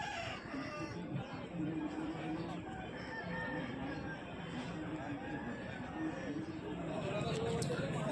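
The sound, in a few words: Aseel rooster crowing at market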